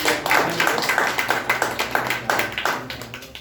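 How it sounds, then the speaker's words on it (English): A small group claps in quick rhythmic bursts, fairly close, the applause tapering off over a few seconds. "Well done, clap for Bhavna"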